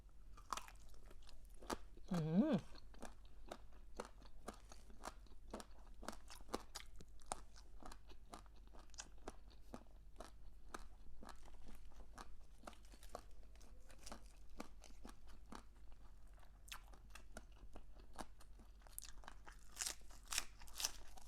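Crispy pig ear chewed close to the microphone, with dense rapid crunches and bites continuing steadily throughout and a brief vocal sound near the start.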